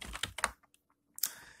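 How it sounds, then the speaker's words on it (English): Quick typing on a computer keyboard: a short burst of several close, crisp key clicks, a pause with a few faint taps, then another sharp keystroke cluster. "Hit the Enter key on a keyboard to jump to the next line"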